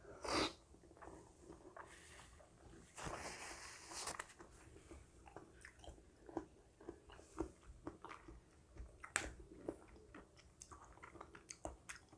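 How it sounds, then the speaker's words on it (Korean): Close, soft chewing and biting on apple mango cheese bingsu shaved-ice dessert, irregular wet mouth sounds in quiet with no talking. "먼저 애플 망고 치즈부터 먹어볼게요"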